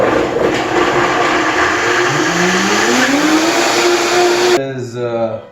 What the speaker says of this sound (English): use the Vitamix for a mixer